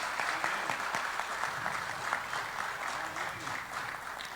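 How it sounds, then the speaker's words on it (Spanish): A church congregation claps steadily and fairly loudly for several seconds, with dense, continuous applause throughout and some faint crowd murmur underneath. "que le demos un merecido aplauso a ese Rey poderoso"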